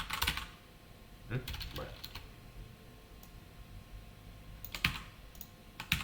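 Typing on a computer keyboard while writing Java code, faint scattered bursts of key clicks with quiet gaps, and a person speaks briefly.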